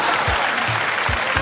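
A studio audience at a game show claps in a loud, continuous roar that stays even across the moment, with faint low thumps underneath.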